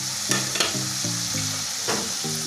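Paneer tipped into a hot pan of fried spices, sizzling and frying steadily with a few sharp clatters and stirring knocks over a constant hiss, close and moderately loud, no talking.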